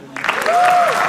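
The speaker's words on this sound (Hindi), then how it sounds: "चिराग पंजवानी के लिए तालियां" A comedy roast audience bursts into applause, a thick wash of clapping that swells after a brief pause and holds steady, with a rising whistle or cheer cutting through the middle.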